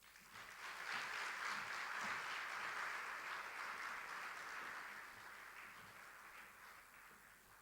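An audience claps after a speech at a family business conference, producing a steady wash of applause that swells and then slowly fades, quiet and somewhat distant.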